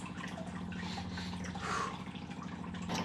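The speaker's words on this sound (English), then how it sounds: "Now we got red wine going in. Cabernet, a Cab Sav." Red Cabernet Sauvignon wine poured into a portable water filtration system, giving a steady trickling, dripping liquid sound that runs continuously and close up, with no talk.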